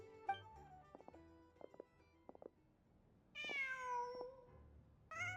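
A cat in the video game Genshin Impact meows several times, short tonal calls followed by a longer, louder meow and another starting at the end, alone against a quiet background.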